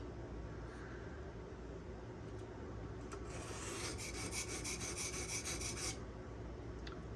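A Spyderco Sage 5 knife with Rex121 steel is drawn across a sharpening stone in quiet, close scraping strokes, with a brighter, denser stretch of rasping near the middle and faint low background rumble throughout.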